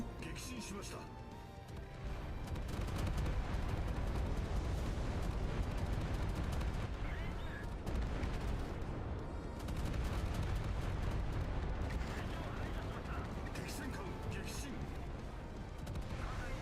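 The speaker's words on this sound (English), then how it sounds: "I may have obliterated them with a fury of torpedoes like they have never seen" Torpedoes explode one after another in the naval combat video game Battlestations: Pacific, with booming blasts and crackling gunfire-like bursts. The barrage is continuous and fairly quiet, and a voice is faintly present underneath.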